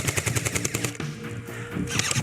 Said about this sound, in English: This gun is not shooting fast enough.